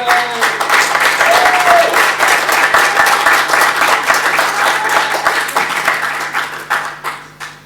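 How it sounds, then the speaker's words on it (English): An audience at a talk claps steadily and warmly for guests called to the stage, a dense run of applause that thins into scattered claps at the end. "Big round of applause for them."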